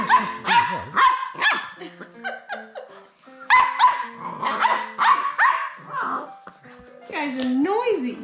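Labrador puppies bark, yip and growl excitedly while playing, with repeated sharp barks and rumbling growls close by, overlapped by people talking.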